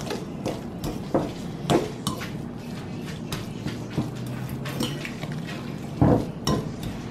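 Cauliflower cake mixture with bacon, ranch and cheddar being mixed in a bowl, irregular knocks and scraping clatter of a utensil against the dish, close and alone.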